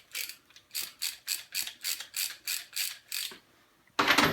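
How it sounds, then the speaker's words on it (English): A 24 mm socket wrench ratchets on a WP open cartridge fork, about a dozen evenly spaced clicking strokes close to the mic, ending in a louder burst of rattling metal. "now you want to put the 24 wrench or socket on here"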